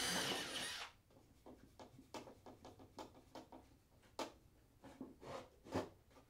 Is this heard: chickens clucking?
no